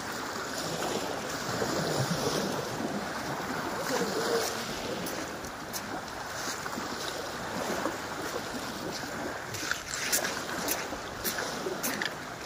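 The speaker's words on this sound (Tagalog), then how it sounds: "Walking lang tayo dito sa gilid ng dagat muna. Kasi medyo malamig ang simoy ng hangin." Sea waves wash steadily along a beach at Dauin, Negros Oriental, with a cool breeze blowing across the shore. The surf makes a continuous, even hiss at moderate loudness, broken by a few brief knocks and clicks.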